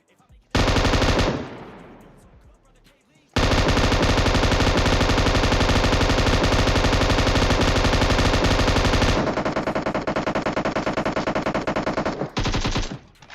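Automatic gunfire in PUBG Mobile, long loud bursts of rapid shots with a brief gap and short pauses between runs, dominating the scene.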